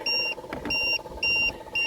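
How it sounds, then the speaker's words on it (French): A model boat's remote control gives a regular series of sharp, high, steady beeps, four repeating tones at even intervals, close and clear, with faint background noise between them. "C'est lui qui bip."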